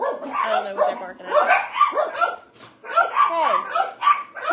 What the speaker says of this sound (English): don't know what they're barking at.